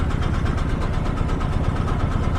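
A hired trawler boat's engine running on the Padma river, a steady, close, loud mid-pitched drone with a fast rhythmic chug and no talk.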